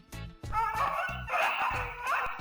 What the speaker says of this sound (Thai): และสุดท้ายนะครับเป็นเสียงสุนัข